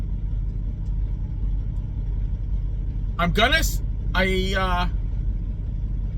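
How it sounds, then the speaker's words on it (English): A semi truck's engine idles just after starting, giving a steady low rumble that runs throughout while someone speaks briefly partway through. "the truck started"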